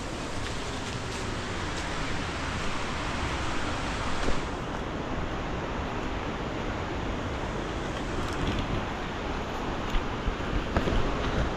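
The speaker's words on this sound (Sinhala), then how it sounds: "දියැල්ල සද්ද තමයි ඔය අපිට ඇහෙන්නේ." A roaring waterfall in Sri Lanka gives a steady, dense broadband rush that stays loud and constant throughout, with no voices over it.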